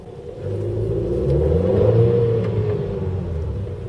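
Low, steady engine hum heard from inside a 2015 Skoda Fabia 1.2 TSI, rising slightly as it revs, with a smooth rumble and muffled road noise.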